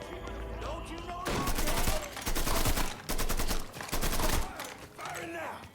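Rapid bursts of gunfire in the Mafia III video game crackle in repeated volleys, loud and close, separated by short pauses, with shouting voices and game sounds mixed in.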